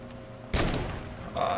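A sudden burst of Fortnite gunfire erupts with a loud crack and rattles on briefly, followed by another shot near the end, over faint in-game background sound.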